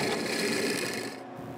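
A drill bores dowel holes into the wooden top of a handmade nutcracker, giving a close, steady grinding rasp that eases off slightly toward the end.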